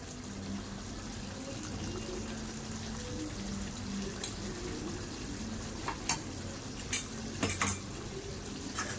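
A spoon stirs masala into chicken in a pan, soft scraping and sizzling under a steady background hiss, with a few sharper clinks of metal against the pan near the end.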